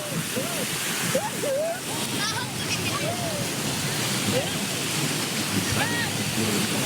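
Sea waves wash steadily ashore at Port Dickson beach on a busy day, a continuous broad rush of surf with faint crowd voices mixed in throughout.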